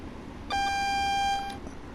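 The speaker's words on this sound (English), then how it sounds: "That was our AWS for a red light, which was the continuous beep." Continuous AWS warning beep for a red signal in a train cab in Train Sim World, a single steady electronic tone lasting about a second over low cab rumble.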